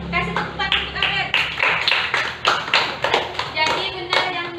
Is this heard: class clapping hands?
yes